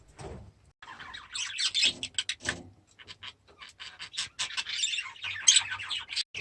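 Aviary birds chirping in a birdroom, a busy mix of quick high tweets and squawks coming in bursts, fairly close and moderately loud.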